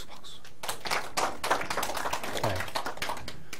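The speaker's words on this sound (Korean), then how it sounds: "박수" Scattered, uneven clapping from a farming-lecture audience indoors, sparse hand claps rather than full applause, moderately close and fairly quiet, lasting a few seconds without talk.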